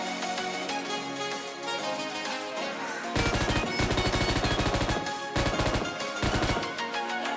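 An M249 machine gun in PUBG Mobile Lite fires in rapid, dense bursts of shots over in-game music and ambience, with short gaps between each burst.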